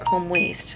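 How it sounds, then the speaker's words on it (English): Mobile phone notification chime going off in the middle of talk: a short pair of bright electronic tones heard under a person speaking close to the microphone. "I'm really sorry that my phone keeps going off."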